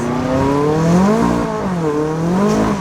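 A McLaren 570S engine revving on a race track, loud and close, its pitch climbing, dipping and rising again in repeated surges, with no talk over it.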